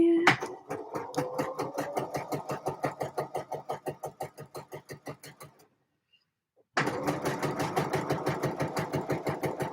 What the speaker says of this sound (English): It has taken me nearly 42 minutes to hem this by machine.